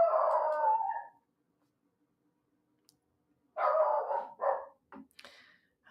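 Two pet dogs howl and bark nearby: a drawn-out howl first, then a pause, then another howling stretch and a few short, sharp barks close together.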